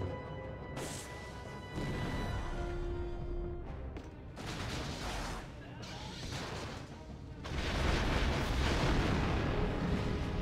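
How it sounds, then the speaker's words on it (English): Bursts of crackling, rumbling Force lightning explosions in Star Wars: The Force Unleashed, rising to a loud sustained blast near the end, with a brief tonal hum partway through. "causes the electricity to burst into an explosion"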